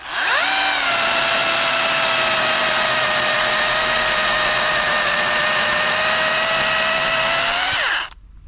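A mini chainsaw saws steadily through a thick hardwood branch about 3–4 inches across, its loud motor whine holding a constant pitch for roughly seven seconds before cutting off abruptly as it finishes.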